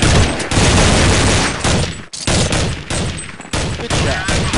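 Rapid bursts of automatic and single-shot gunfire in Counter-Strike 1.6 on the Militia map, loud and dense, with sharp cracks across several seconds and a brief lull near the middle.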